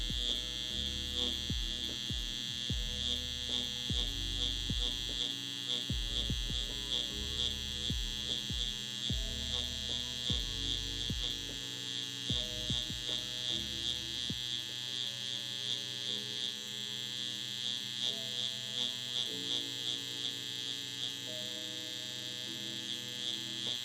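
A tattoo machine used for dotwork tattooing buzzes continuously with a steady high-pitched electric whine, its rhythm pulsing faintly as needle passes work in dots, close and unaccompanied by talk.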